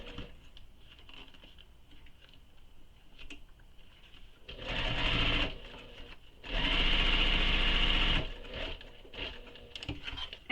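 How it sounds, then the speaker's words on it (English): Sewing machine stitching the sides and bottom of a pocket on a belt bag in two sustained close runs, the first shorter and the second longer, with quiet pauses before, between and after. "And then sew your pocket sides and bottom."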